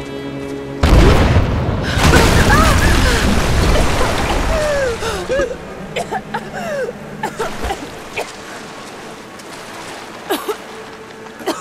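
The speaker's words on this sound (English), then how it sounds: "Blasting their way in." A loud explosion booms from Rise of the Tomb Raider as a way is blasted open, a heavy deep roar followed by a long rumbling tail with scattered debris clatters and smaller thuds fading over the next seconds.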